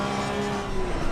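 Porsche Cup race car accelerating hard at Brands Hatch in a racing video game, a steady high-pitched engine whine rising under throttle, loud and close, with no talk.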